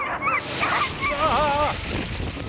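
Excited sled dogs in Hokkaido yip, whimper and bark eagerly before a dog sled run, high whining cries and short barks overlapping in a quick, agitated burst outdoors.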